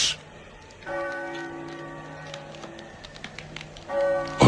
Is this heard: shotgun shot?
no